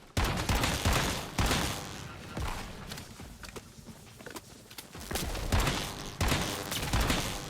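Gunshots in Once Human ring out as a series of sharp, loud reports spaced a second or so apart, each standing out clearly over a rumbling game background.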